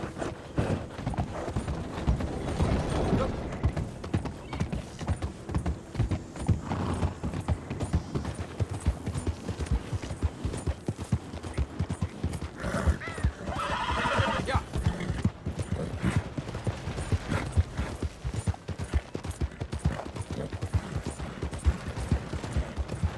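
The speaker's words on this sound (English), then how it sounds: "Wish my horse looked that nice." Hooves clop continuously and rhythmically over a long stretch, with a horse whinnying at times. The sound is moderately close and carries no clear speech.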